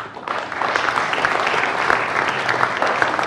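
Studio audience applauds for a singer on the ILC talk show, a dense, steady clapping from a crowd that swells after a brief softer start and holds loud throughout.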